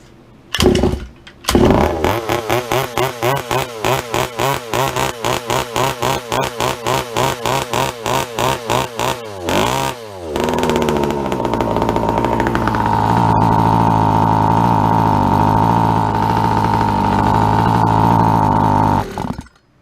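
A carbureted KTM 990 engine on the floor held at full throttle, chattering in a rapid uneven stutter for several seconds, then dropping into a steady, loud, droning bog that holds to the end.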